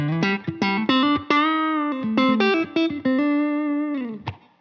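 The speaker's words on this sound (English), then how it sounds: "So this is the Dream 65 through the aux." Electric guitar played through a Universal Audio Ox Dream 65 amp emulation via aux input, a melodic run of sustained, slightly overdriven notes and chords with reverb, loud and alone.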